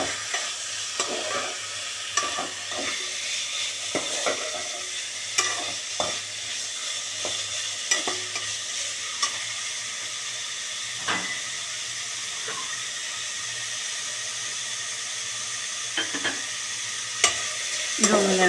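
Chicken with curry leaves sautés in a pan, a constant close sizzle broken by frequent sharp scrapes and knocks of a spatula stirring, with no one talking.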